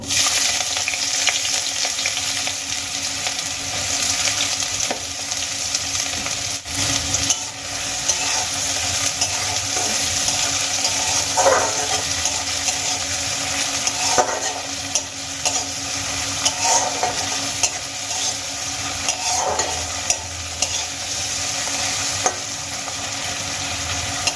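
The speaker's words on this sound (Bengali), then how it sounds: "কুচানো পেঁয়াজগুলো আমি এবার এই তেলের মধ্যে দিয়ে দেবো" Finely chopped onion fries in hot oil, giving a continuous close sizzle while a spatula stirs and scrapes the pan in repeated strokes over the steady crackle.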